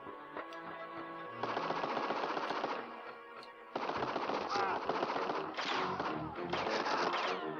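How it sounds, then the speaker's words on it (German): Rapid machine gun bursts from the Game Boy Advance shooter Medal of Honor: Infiltrator, several sustained volleys with short pauses between them, fairly quiet and crackly with no talk. "Wieder mein Maschinengewehr bitte."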